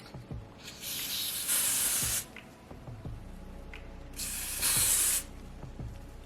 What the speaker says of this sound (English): And I go back a little bit with the spray